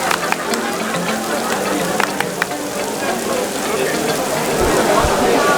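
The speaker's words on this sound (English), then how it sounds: "It's raining" Rain falls steadily outdoors at an event in Goa, a dense patter with scattered sharper drop taps, while faint voices and movement sit beneath it.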